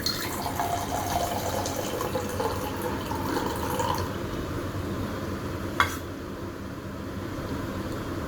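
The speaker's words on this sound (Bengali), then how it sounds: "ভালো জল বেরিয়ে গেছে পরিষ্কার জল" Clean water runs steadily from a tap, a close, continuous splashing stream with one brief sharp knock partway through and the flow easing slightly toward the end.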